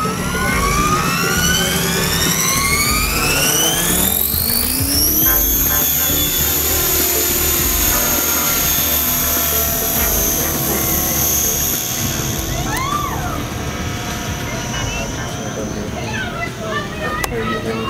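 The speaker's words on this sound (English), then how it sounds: "you're gonna shut off the motor to the helicopter, it's gonna fall through the sky, it's gonna build speed on the blades as it's falling through the sky" A T-Rex 550 RC helicopter whines loudly and steadily overhead, its rotor and motor pitch sweeping upward before holding a constant high drone, with faint voices in the background.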